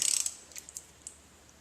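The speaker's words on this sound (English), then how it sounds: "Let's get the wrench on there, start turning it." A ratchet wrench clicks as it turns the oil drain plug on a 2008 Subaru Outback, a rapid burst of close, bright ratcheting followed by a few slower, scattered clicks.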